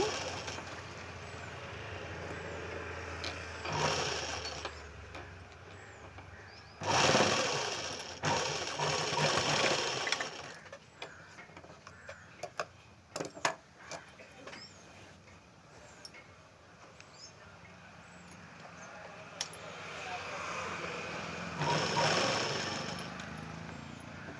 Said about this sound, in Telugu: ఇలా డాట్ పెట్టుకొని ఇలా కుట్టాలి సగం నుంచి కుట్టాలి